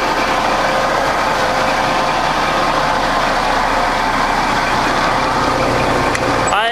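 A 2008 Kenworth W900 truck with an ISX Cummins diesel idles steadily and close by. The rumble is dense and continuous and holds at an even loudness throughout.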